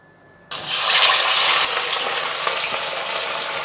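Large pieces of catla fish seasoned with turmeric and salt drop into hot oil, bursting into a loud, steady sizzle after a quiet start that stays strong and close to the end.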